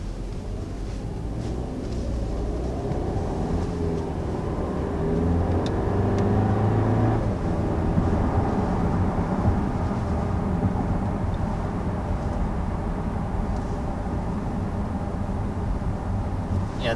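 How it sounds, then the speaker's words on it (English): A 2019 Audi A4's 2-liter turbocharged four-cylinder engine accelerates from inside the car, a steady hum rising in pitch and then settling into a continuous drone with road noise. "this engine, it may only be a 4-cylinder, but it definitely has a peppiness to it"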